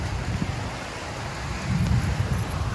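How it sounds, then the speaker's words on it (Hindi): Steady rain hiss with low rumbling wind gusts, swelling louder in the second half; no voices. "देखो बारिश की"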